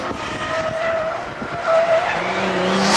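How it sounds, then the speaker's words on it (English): A Nissan 300 CS drift car slides through a drift qualifier, with loud sustained tire squeal and engine roar, rising toward the end. "That car is definitely having trouble getting sideways."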